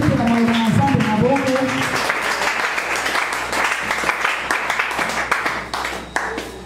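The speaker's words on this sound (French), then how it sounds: "Est-ce qu'on peut acclamer pour la parole du Seigneur?" Congregation in a church service applauding and cheering together, a dense wash of clapping that starts with a brief vocal swell and continues steadily at close range throughout.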